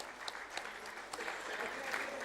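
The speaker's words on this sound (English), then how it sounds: "A big round of applause." Applause from an audience at the inaugural ceremony of a literature festival, a steady wash of many hands clapping at moderate distance, swelling slightly toward the end.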